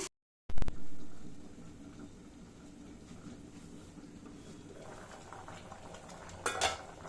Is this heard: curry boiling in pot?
yes